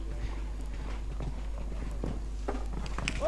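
Horse hooves clip-clop on the ground of a show jumping arena at the 2025 Burlington Cup Show, soft irregular thuds at a moderate distance beneath a steady low hum, with faint background voices.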